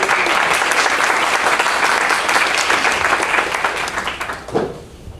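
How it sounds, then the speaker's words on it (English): Loud, dense applause from the audience at a campaign forum, steady clapping from a large crowd that fades out toward the end, with a brief voice at the tail. "give your hand a round of applause for being here tonight"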